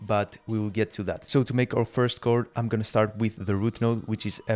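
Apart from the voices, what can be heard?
No distinct noise like a dog, phone or traffic.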